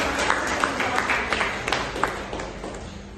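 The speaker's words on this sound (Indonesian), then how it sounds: "Beri tepuk tangan dulu Bapak." Scattered applause from a classroom of students, a rough patter of claps with sharper individual hits rising above it, moderately close and fairly quiet.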